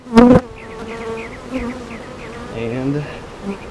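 Honey bees buzz around an open hive during an inspection, a dense, continuous insect hum close to the ear, opened by a sharp knock of hive equipment.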